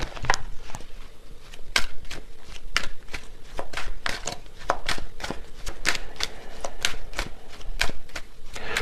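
Tarot cards are shuffled and drawn, giving a rapid run of crisp, close card snaps and flicks in an irregular rhythm, with faint talk in the background.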